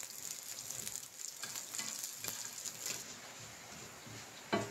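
Cumin seeds, ajwain and local rice frying in a pan, a faint, steady crackling sizzle with light patter. Scattered soft pops and stirring scrapes come and go, with no talk.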